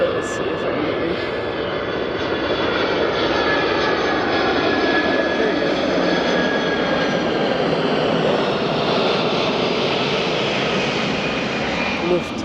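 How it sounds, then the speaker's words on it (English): A Lufthansa Boeing 747 cargo plane passes overhead, a loud, steady jet roar filling the whole stretch outdoors with little change in level, and no voices over it. "this looks like an A380 or no, Cargo 747"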